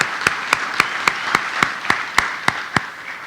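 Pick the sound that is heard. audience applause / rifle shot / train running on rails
audience applause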